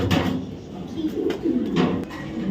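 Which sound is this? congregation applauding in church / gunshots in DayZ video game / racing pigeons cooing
racing pigeons cooing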